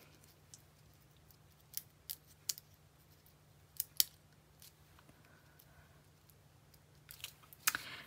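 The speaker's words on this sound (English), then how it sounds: "I've punched 1 heart and then I've cut it in half through the middle" Scissors snip a small punched brown-paper heart in half. A few crisp, close cuts are spaced out over a quiet background with no talking.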